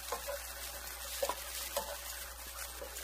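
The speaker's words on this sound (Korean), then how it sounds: "그 다음에 이제 이거를 볶습니다. 브로콜리 볶겠습니다." Blanched broccoli and mushrooms stir-fried in olive oil in a pan, a quiet steady sizzle with soft scraping stirs and occasional light taps, heard alone without talk.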